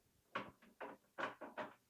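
A hotel room closet door that won't fully close is pushed shut in a quick series of five or six wooden thumps and knocks, close and fairly quiet.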